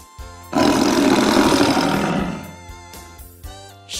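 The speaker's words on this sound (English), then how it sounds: "Tiger." A tiger lets out a single loud, close, rough roar lasting about two seconds, then fades out beneath light background music.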